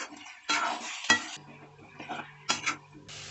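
A spoon scrapes and stirs mango pickle in a pan in several separate bursts, with metallic clinks and a soft sizzle between strokes.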